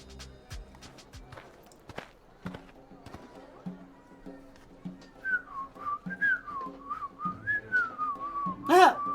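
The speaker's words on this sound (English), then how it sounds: "Whistling a happy tune." A character whistles a cheerful, wavering tune in the video game Lil Guardsman. The whistle comes in as a clear melodic run after several seconds of footsteps and light thumps, then ends with a louder flourish.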